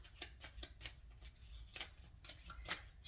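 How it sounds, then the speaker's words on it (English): Tarot cards are shuffled by hand in quick, quiet bursts of papery riffles and flicks, close by and alone. "I can't shuffle as fast as I've been used to shuffling"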